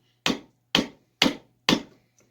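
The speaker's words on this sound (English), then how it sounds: "Once you start splaying it out and break it up, you should be able to hammer it back down that way." A chisel is hammered into the hickory handle of a Plumb scaling hammer: four sharp, evenly spaced strikes, close and loud, each with a short decay, and no talking.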